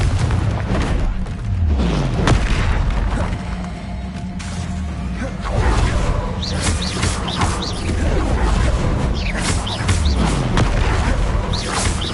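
Confringo fire spells in the video game Hogwarts Legacy burst out in repeated loud booms and crashes amid continuous combat effects and a dense game soundscape, with a voice casting spells between blasts.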